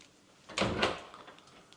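A closet door in a custom-built house opens or closes with one soft thump and a brief rattle, close by and quiet.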